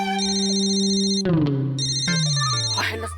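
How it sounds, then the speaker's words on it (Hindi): A mobile phone ringtone plays a bright, repeating electronic melody of sustained tones, loud and close, filling the moment without any talking over it. "लस्सी का नाम लेते ही भुक्खड़ ईश्वर का फोन आ गया।"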